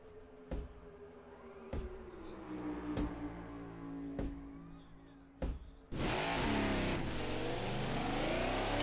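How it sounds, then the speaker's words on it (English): Race cars roar past in the NASCAR 22 video game during the Daytona 500, a string of loud engine whooshes that builds into a dense, sustained roar of the pack going by. "Hear the rest of the cars going by."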